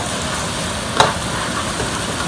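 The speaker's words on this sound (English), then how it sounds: "So we're gonna stir fry all those vegetables until it's really" Vegetables stir-fried in a pan for Thai sweet and sour chicken, a quiet continuous sizzle with a single sharp utensil tap partway through, no talking.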